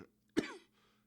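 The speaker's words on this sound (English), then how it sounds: "sorry about my coughing" A single sharp cough from a man, close and brief, in an otherwise quiet moment.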